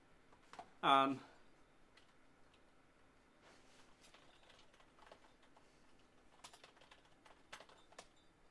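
Someone types a password on a computer keyboard, with soft scattered clicks of keys at low level after a brief louder voice burst near the start.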